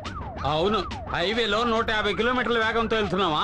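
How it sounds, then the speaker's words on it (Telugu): A car siren wails loudly and close by in rising and falling sweeps, heard under a voice speaking over it. "సైరన్ సౌండ్ అండి."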